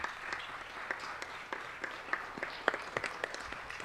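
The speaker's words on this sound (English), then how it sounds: "Why are we clapping?" Scattered, faint clapping from a small audience at a Los Angeles city council meeting, a handful of uneven claps spread over a few seconds in a quiet room.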